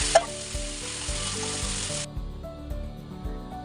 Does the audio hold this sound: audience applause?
no